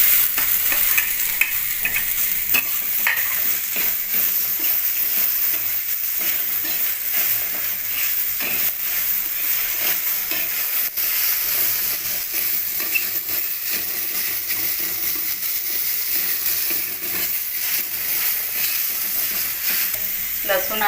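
Tomatoes roasting and frying in a pan for a prawn curry, a loud continuous sizzle and hiss with occasional stirring scrapes, close and steady throughout.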